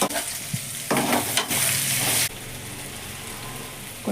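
Ivy gourds frying in oil, giving a loud, dense sizzle that surges and then settles into a steadier hiss.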